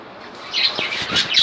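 Finches in a backyard bird aviary give a quick flurry of shrill squawks and chirps with some wing flutter, close and fairly loud for a second or so.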